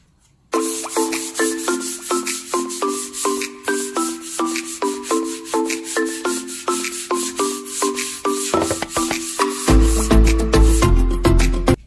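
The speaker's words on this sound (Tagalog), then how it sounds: "yan po ang ililiha po natin ngayon ng manimanong" Hand sanding of varnished wood with sandpaper, rapid rhythmic scraping strokes repeated close up for about ten seconds, growing heavier and rougher toward the end, with no talk.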